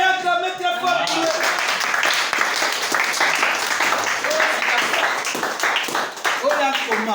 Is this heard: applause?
yes